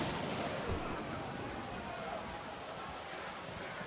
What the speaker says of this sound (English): But before they could attack, a violent storm hit the army.